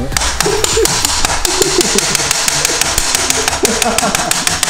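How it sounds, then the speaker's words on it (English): Repeated hammer blows pound a car seat bracket into place, striking sharply over a steady engine rumble, with people talking nearby. "And just fucking pound it in."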